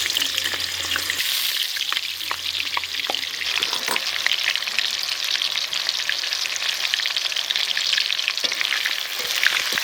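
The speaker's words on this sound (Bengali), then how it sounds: "এবার আমি কলাগুলোকে ফ্রাই করে নিচ্ছি" Raw banana slices fry in hot oil in a wok for chips, giving a loud, steady sizzle with scattered crackles throughout and no voices.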